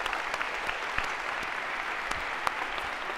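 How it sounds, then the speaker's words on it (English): A lecture hall audience claps steadily throughout, a dense patter of applause with a few sharper claps standing out. "A round of applause if we could for our volunteers."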